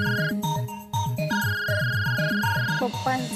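A mobile phone rings loudly with a repeating electronic melody of rising and falling notes. The tune plays continuously and close, with no talk over it.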